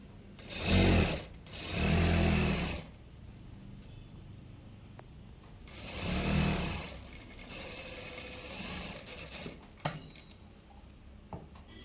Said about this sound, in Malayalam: അവിടെ നമുക്ക് കൈക്ക് പൈപ്പിംഗ് പീസ് കൊടുത്ത് അടിക്കേണ്ടതാണ്